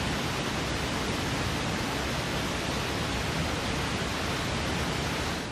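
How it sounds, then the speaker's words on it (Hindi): Flooded Chenab river at Ramban roaring after heavy rain, a dense, steady broadband rush of churning water, loud and unbroken throughout. "चिनाब दरिया की लहरों का यही शोर रामबन को डरा रहा है।"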